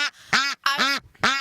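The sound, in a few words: ducks quacking at a duck sanctuary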